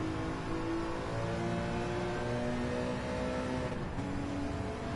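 A car accelerating in the Gran Turismo 7 driving school, a steady close engine drone with rising harmonic tones, heard alone without talk.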